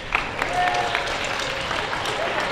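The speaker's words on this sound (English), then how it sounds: "Once again, please give another round of applause to Kodenkan Center." Crowd clapping in front of a festival main stage at a Japanese cultural fair in Tucson, a short burst of moderate, continuous applause from a sizable audience, with scattered louder claps standing out.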